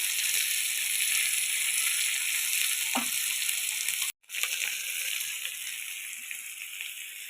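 River fish frying in a pan of hot oil gives a loud, constant sizzle, with a faint clink near the middle and a momentary dropout, and no one talks.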